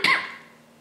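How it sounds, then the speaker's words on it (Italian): A single sharp cough, close and fairly loud, fading out quickly into near silence. "sta tosse, non mi andrà mai via"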